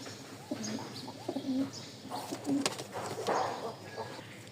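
Pigeons for sale coo in soft, repeated low calls close by, with a few chirps and rustles between them and no talk.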